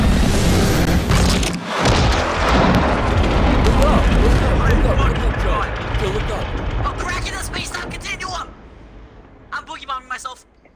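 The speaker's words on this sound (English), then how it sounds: "That's that gun." A gun fires at a missile launch event, a loud booming blast followed by rumbling, echoing reports that fade over several seconds, with voices talking nearby throughout.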